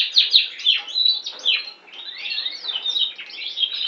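A champion Border canary sings close and clear, with rapid chirps, sweeping whistles and trills in short varied phrases over a few seconds.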